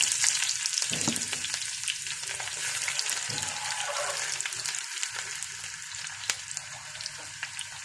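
Onions frying in hot oil after mustard seeds have popped, tempering for a sambar; a steady close sizzle runs throughout with occasional faint clinks and stirring scrapes, no talk.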